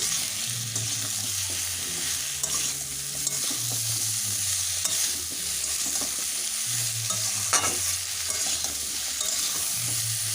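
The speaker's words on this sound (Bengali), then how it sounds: "স্বাদ মতো নুন দিয়ে ভালো করে মিশিয়ে নিচ্ছি" Salt is stirred into a bata fish curry with potato, papaya and raw banana, with steady scraping and gentle sizzling from the pan throughout.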